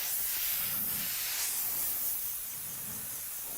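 Paint spray gun atomizing candy black paint over anodized metal, a steady close broadband hiss that holds strong and eases slightly toward the end, with no voices.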